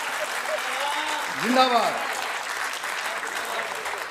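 Audience applause at a Hindi kavi sammelan poetry show with Kavi Deepak Danadan: steady crowd clapping runs throughout while a voice shouts a brief cheer over it.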